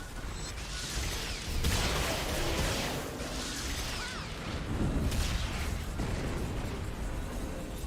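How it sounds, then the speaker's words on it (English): Explosions in the PSO2 video game, a continuous loud rumbling wash with several heavier bursts and whooshes layered over steady background noise. "Yeah, definitely don't stand in those explosions."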